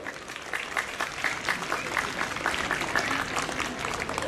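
A concert crowd applauds steadily for several seconds, a dense patter of clapping hands in a room, with no one speaking.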